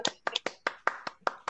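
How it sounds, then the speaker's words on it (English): Audience applause: hands clap in a steady, even rhythm, about eight sharp claps, faint and fairly close, with no talking. "Can we please give Peter Ind a massive round of applause"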